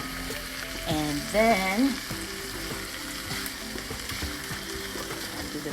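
Onions and peppers fry in a pan with a constant sizzle and occasional stirring scrapes, while a voice briefly speaks early on.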